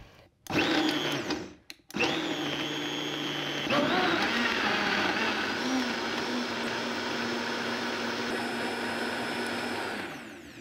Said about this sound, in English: if you have a smaller blender, you can do this in 2 batches